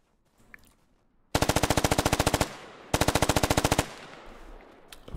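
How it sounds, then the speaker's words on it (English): Automatic gunfire in the military shooter Squad, with shots fired through a forest. Two loud, rapid bursts of evenly spaced shots stand out clearly against quiet background ambience, and no one speaks. "they're taking shots through the forest"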